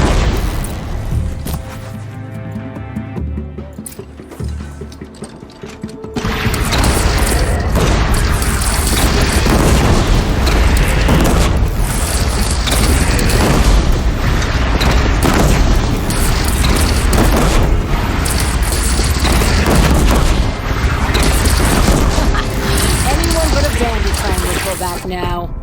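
Cannon fire and explosions in the Horizon Zero Dawn video game: dense, loud, continuous booms and bursts hit after a quieter opening, with voices faintly mixed into the chaotic battle din.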